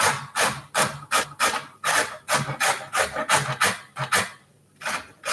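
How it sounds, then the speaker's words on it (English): A carrot is grated on a box grater in quick, rhythmic rasping strokes, about a dozen close and loud scrapes with a short pause before the last few, and no voices. "Box grater. The one you use to just grate cheese."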